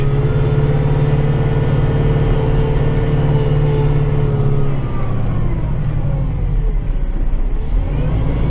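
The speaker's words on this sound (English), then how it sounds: "And it's a good way to start one's day in a tractor." A heavy diesel tractor engine drones steadily up close, its low rumble shifting pitch partway through as it changes speed, with no voices.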